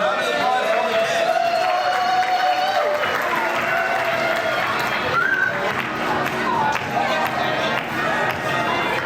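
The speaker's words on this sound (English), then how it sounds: "A round of applause for all the kids." Sustained applause and cheering for children fills a synagogue Torah dedication celebration, a dense crowd sound lasting throughout, with voices and some shouting mixed in.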